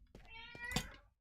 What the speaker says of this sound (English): The cat always has something to say.